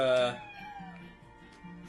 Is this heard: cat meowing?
yes